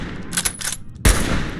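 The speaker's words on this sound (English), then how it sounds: "Great firing sounds and animations. Especially that racking in the next round." A bolt-action sniper rifle in a Fallout 4 mod, with quick mechanical clacks of the bolt racking, then a single sharp, loud shot with a booming low tail.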